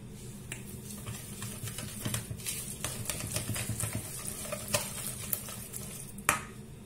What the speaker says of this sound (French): Maintenant, je vais mélanger tout ça.